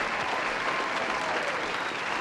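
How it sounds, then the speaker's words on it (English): A short burst of applause plays during a livestream, a continuous, even wash of many hands clapping that lasts a couple of seconds, heard at moderate level without speech. "We'll do a little bit of applause for whoever won that one."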